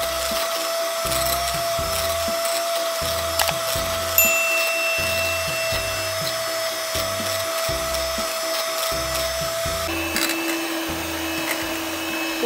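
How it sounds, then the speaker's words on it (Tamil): Electric beater whipping cream for custard ice cream at high speed, a continuous whirring motor drone with a steady pitch that shifts slightly partway through, heard alone and close. "ஹை ஸ்பீடில் வந்து ஒரு 10-12 நிமிஷம் வரையும் நல்லா பீட் பண்ணிட்டால்"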